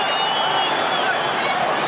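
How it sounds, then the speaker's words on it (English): A boxing crowd in Copenhagen stands and cheers with a dense, continuous roar of voices and some clapping, loud and steady throughout, during a fight in the third round. "Crowd on their feet here in Copenhagen."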